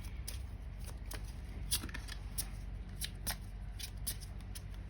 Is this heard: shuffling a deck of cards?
yes